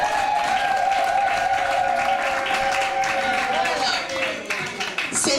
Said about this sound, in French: Applaudissez pour maman Sida.